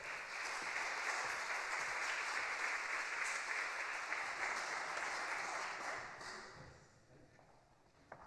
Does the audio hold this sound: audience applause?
yes